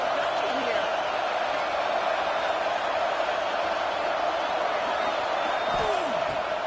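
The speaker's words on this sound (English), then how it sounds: "This crowd, full throat, splitting the eardrums and letting them know it's going to be a long day." Loud stadium crowd at a college football game, LSU at Texas, roaring continuously throughout with broad, dense cheering and an announcer talking over it.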